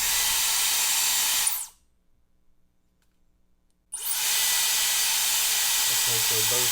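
A repaired Dyson HD01 hair dryer blows a loud, steady airy hiss. It cuts out to near silence for about two seconds, then starts up again at full strength.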